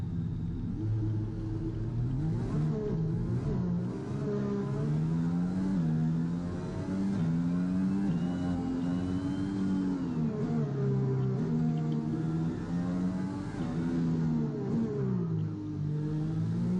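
An F1 2021 race car in the PS5 video game revs and accelerates, its engine note rising and falling in continuous waves as it shifts through gears, loud and steady throughout with no talk.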